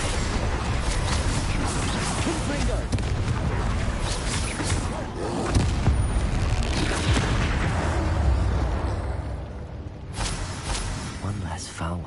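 A Bombarda explosion spell in a Harry Potter game, heavy booming blasts and crashing debris in a loud, continuous combat roar, with a voice speaking over it.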